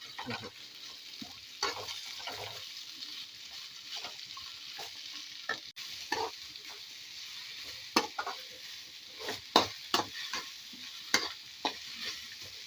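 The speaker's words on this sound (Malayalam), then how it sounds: "സബോള ഒന്ന് നന്നായി വഴന്ന് വരട്ടെ." Two large, thinly sliced onions sauté in a pan for a beef roast, giving a steady close sizzle broken by repeated stirring scrapes and soft clatters of a spatula against the pan.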